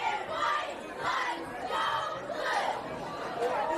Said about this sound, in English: Cheerleaders in action, crowds in action.